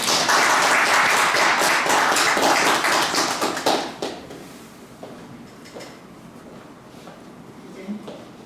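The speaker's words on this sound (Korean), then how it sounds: "박수 한번" An audience at an award ceremony claps in a dense burst of applause that lasts about four seconds, then thins to a few scattered claps and quiet room noise.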